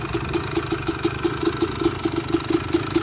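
A 2001 Yamaha YZ250 two-stroke dirt bike engine runs at idle, a close, steady burble with a quick regular pulsing beat and metallic clatter, no voices.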